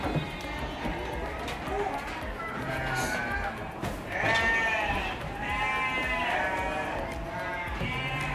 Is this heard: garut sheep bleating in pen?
yes